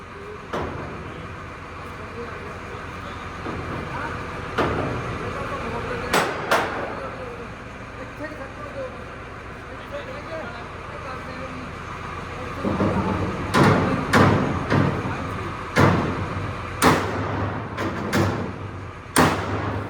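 Sharp metal hammer blows strike a farm gate to straighten it, loud irregular clanks spaced across the stretch and bunching closer together toward the end over steady background noise, with people talking.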